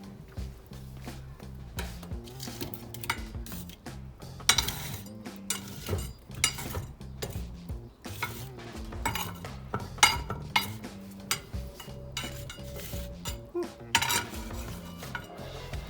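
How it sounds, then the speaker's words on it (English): A metal hook shoving burning logs around inside a Verona outdoor pizza oven, with irregular metallic scrapes, clinks and knocks, some sharp and close, spread over quiet crackling and a faint musical bed. "use the hook to move the logs into the left hand side of the oven"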